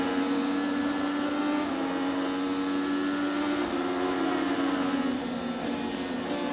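IndyCar race cars at the 2019 Iowa 300 on the Iowa oval, a continuous loud engine drone with a steady pitch that shifts slightly as cars pass, with no talk.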